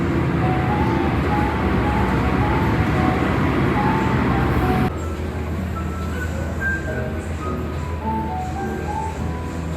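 Taksaka passenger train standing at a station while getting ready to shunt: a steady low mechanical rumble and hiss of the idling train, which drops to a quieter, even station hum halfway through.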